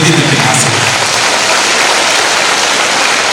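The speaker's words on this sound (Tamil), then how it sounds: "ஆசிரியர்களுக்கு கைத்தட்டு, கையை உயர்த்தி தட்டும் மாணவ செல்வங்கள்" Students in Coimbatore clap for their teachers with raised hands, a dense and steady roar of applause from a large crowd that carries through unbroken.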